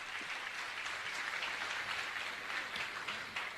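Applause from an audience at a Jain religious discourse gathering, a dense, even patter of many hands clapping, faint and distant, sustained for the whole moment with no voices.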